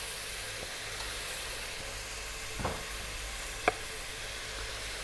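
Beef stew meat sizzling in butter in a pan, a steady faint hiss and crackle throughout, with a couple of brief louder pops and spits standing out.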